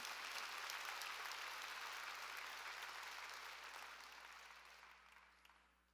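Church congregation applauding during a sermon, a dense, steady wash of many clapping hands that holds evenly and then gradually fades away toward the end, with no talking over it.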